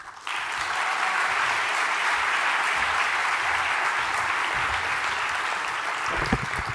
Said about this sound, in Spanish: La recibimos también con un cariñoso aplauso.